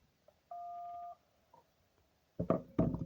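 Phone keypad tones dialing voicemail on a Cyber 7 handset: a short beep, then one sustained two-pitch dial tone and a faint later blip, followed by louder clattering handling noises near the end.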